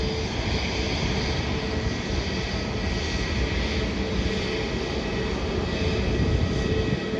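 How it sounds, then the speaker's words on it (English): A Virgin Australia Boeing 737 jet arriving at an airport from Sydney gives off a loud, steady engine roar that holds evenly throughout, with no talking. "It's a Virgin Australia flight, the Boeing 737, coming in from Sydney."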